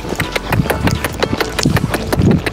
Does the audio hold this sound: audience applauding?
no